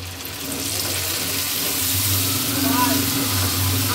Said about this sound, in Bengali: এখন একটু সামান্য পরিমাণ পানি দিয়ে দিব, যাতে মশলাটা পুড়ে না যায়।